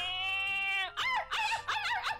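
A rooster crows, starting with a long harmonic note and breaking into a few wavering, warbling calls, fairly close and clear with no talk over it.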